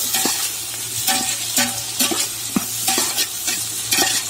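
Tomatoes and onions sauté in a pan for a Kerala mural fish curry, with a steady sizzle broken by rhythmic spatula scrapes about twice a second, close and fairly loud.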